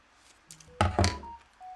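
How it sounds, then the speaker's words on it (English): A mobile phone goes off with a short series of electronic tones and beeps amid a couple of soft thumps, fairly quiet and close. "Oops, sorry, that was my phone. I thought I turned it off."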